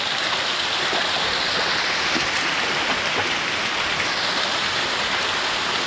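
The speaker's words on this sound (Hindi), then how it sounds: "तो झरना कुछ ऐसा है" Waterfall on a trip between Netarhat and Ranchi, with a deep pool below it. Broadband water roar holds steady and dense throughout, loud and continuous with no voices.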